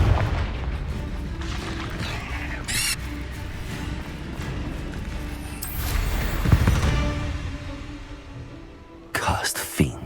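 In the Hogwarts Legacy video game, a Confringo blasting curse sets off booming, bursting explosions with sharp crackling flares, the loudest near the middle and another burst at the end, heard under in-game voices.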